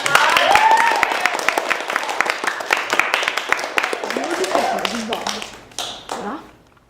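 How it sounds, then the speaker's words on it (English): Sixth-grade students in a classroom give a round of applause, rapid scattered claps running for several seconds under chatter and voices before trailing off. "Let's have a big round of applause"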